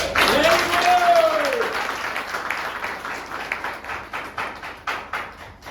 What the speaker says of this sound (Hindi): तेज से तालियां बजाइए